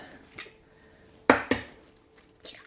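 Three large eggs are cracked against a bowl for a honey apple cake batter: a few sharp, close taps spaced apart in an otherwise quiet kitchen.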